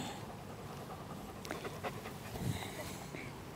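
A dog pants softly and rhythmically at close range during a calm handling session, the quick breaths faint and steady with a little background noise.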